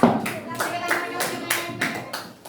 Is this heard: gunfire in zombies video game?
no